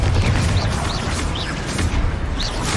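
Confringo blasting spell explosions in Hogwarts Legacy: a heavy, rumbling low boom with crashing debris, loud and continuous, with faint bright sparkles on top and no voices.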